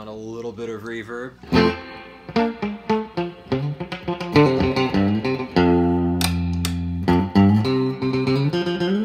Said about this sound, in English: So now I'll turn on a little bit of reverb.